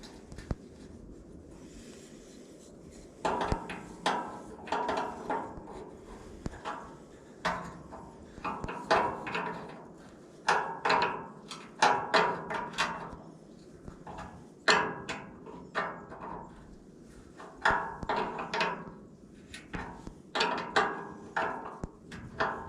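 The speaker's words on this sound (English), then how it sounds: "let's see if we can get that grease zerk in there." A grease zerk being installed into a hinge on a Diamond C trailer: repeated close metallic scraping and ratcheting bursts in an irregular rhythm, clearly audible over a low background for about twenty seconds, with no speech.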